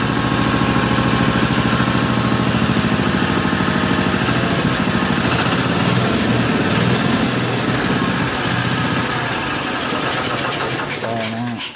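A 1955 Cushman Truckster engine runs continuously and loudly after a cold start with the choke eased off, a steady knocking chug that holds throughout and stutters near the end.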